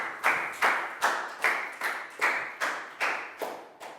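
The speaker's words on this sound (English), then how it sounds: "a big round of applause for Chu" A classroom of Year 4 pupils claps rhythmically together, ten or so evenly spaced bursts of hands coming at a steady beat, loud and close, with no talking over them.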